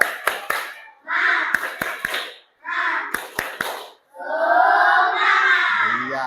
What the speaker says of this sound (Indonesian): Ayo kita bareng-bareng tepuk semangat.